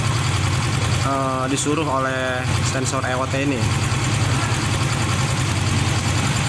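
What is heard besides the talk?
warm car engine idling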